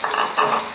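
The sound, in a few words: sautéing onion, dried red chillies and chopped tomatoes in a pan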